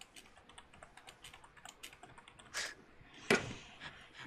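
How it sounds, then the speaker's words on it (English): Rapid typing on a computer keyboard during a live online show: quiet, irregular clicks with a couple of sharper louder bursts, no voices. "You're typing away there like a gorilla in heat."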